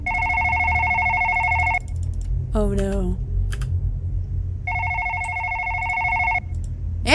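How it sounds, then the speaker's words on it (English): A desk phone in the horror game One Late Night rings in two long electronic trills separated by a pause, with keyboard clatter and a short exclaimed voice between them. "It'll keep ringing if you don't answer it."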